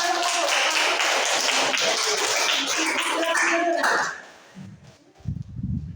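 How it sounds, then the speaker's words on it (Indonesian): A class of students clapping their hands during a mathematics lesson: dense, busy clapping for about four seconds that then drops away, followed by a short burst of voice or movement. "Tepuk tangan dulu"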